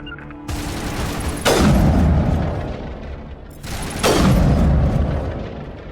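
Pistol gunfire in Mass Effect Legendary Edition sounds as two heavy, booming shots a few seconds apart, each with a sharp attack and a long reverberant tail over a continuous rumbling game soundscape.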